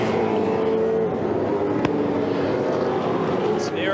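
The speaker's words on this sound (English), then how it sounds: "there is one very fast red car moving through" A V8 Supercar sweeps past at speed during a 2007 championship race, its engine roar loud and close, with a sharp transient partway through and a faint commentator's voice underneath.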